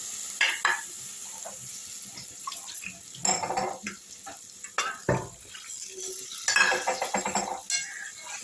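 Vegetables for Bengali shukto are stirred in a pan as milk is added. Bursts of a spoon scraping and clinking against the metal come in irregular spurts over a soft simmering sizzle.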